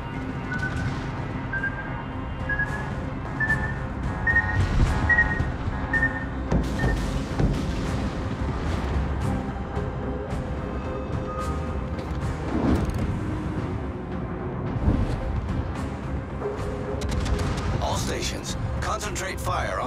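Naval guns booming during a warship battle in the video game Brawling Colbert, with repeated heavy thuds and blasts throughout, layered under steady game sound and a continuous synthesized backdrop.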